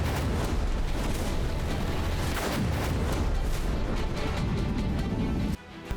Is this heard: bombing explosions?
yes